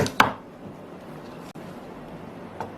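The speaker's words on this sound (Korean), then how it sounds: "자, 반으로 똑같이 썰어주시고요." A knife cuts a carrot in half on a cutting board, with one sharp chop near the start and a fainter knock later against quiet kitchen background.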